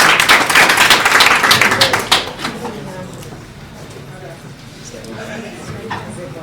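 Applause from an audience at a Master Speak club session in Bamako, brisk clapping loud and close for about two seconds, then cutting off quickly into a quieter room murmur.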